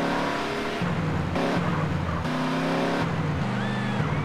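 Car engine in GTA San Andreas, a modded 1975 Bollokan Chul, revving and accelerating through stepped gear changes, loud and steady with a faint tire squeal near the end.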